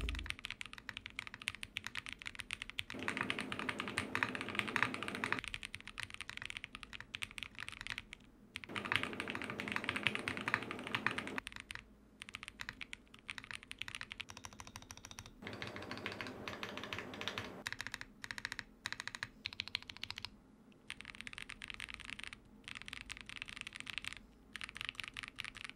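Close, clear typing on an Angrymiao AM65 Less mechanical keyboard fitted with Boba U4T tactile switches: fast, even runs of clacking keystrokes come in bursts separated by brief pauses, with nothing else heard.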